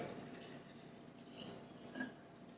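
Water poured over kefir grains in a container, a faint steady trickle with a small splash near the end, close and quiet with no talking.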